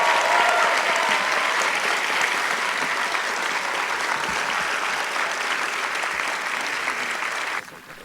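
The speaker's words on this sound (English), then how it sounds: "Can we hear a really round of applause?" Sustained applause from an audience at an Arangettam ceremony for Panchari Melam students, steady and dense for most of the stretch before dropping off sharply near the end.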